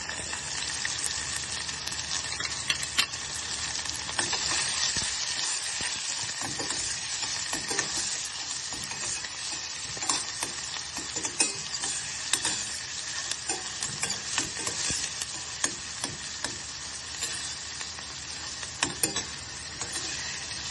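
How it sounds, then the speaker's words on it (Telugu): Onions fry for vegetable upma while a spoon stirs them continuously. A constant loud sizzle runs under frequent scraping and tapping against the pan, close by, with no talking. "ఉల్లిపాయలు తొందరగా వేగాలంటే కొంచెం సాల్ట్ వేయాలి."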